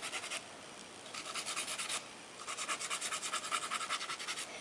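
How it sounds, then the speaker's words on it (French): A nail file rasps along the edges of a fingernail in quick, rhythmic strokes, coming in three bursts with short pauses between, close and quiet. "On commence toujours à limer par les bords."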